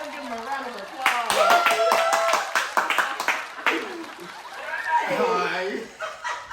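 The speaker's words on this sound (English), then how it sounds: "Everybody, let's give him a round of applause." An audience claps to welcome a guest onto a casual talk show, with a burst of clapping mixed with chuckles and laughter, then people talk over the fading applause.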